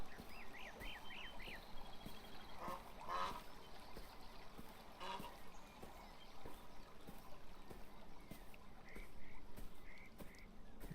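Ducks in the video game Beyond Eyes honk in a quick run of short calls early on, then a few more scattered quacks later over a steady soft outdoor ambience.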